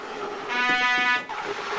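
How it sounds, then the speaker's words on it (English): A short, buzzy, brassy trumpet-like blast, with a second brief honk after it, over a faint background, about two seconds long. "I can play the trumpet."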